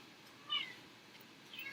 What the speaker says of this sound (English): That is Clinton is meowing and not Oreo.